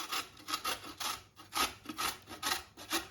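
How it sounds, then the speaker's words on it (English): Beetroot is grated by hand into a bowl with quick rhythmic rasping strokes, about two per second, close and fairly quiet, with a short pause partway through. "The next thing is the beetroot. So let's start grating this into here."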